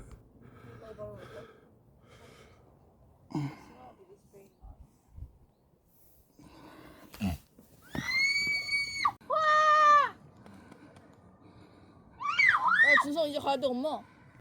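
Loud screaming voices ring out during a hike on a hillside trail, coming in bursts of long tonal cries between quieter stretches, with gasps, breaths and faint movement in the gaps.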